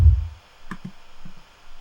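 A short electronic stomp effect from a pop remix production: a heavy low thump at the start, then a few soft, low hits spaced across the rest of the moment.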